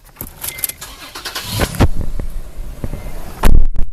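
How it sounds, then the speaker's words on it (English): A pickup truck engine cranks and catches with a loud low rumble after some close rustling and clicks, like keys and a person settling into the seat, then briefly revs near the end. "Getting in Cole's truck."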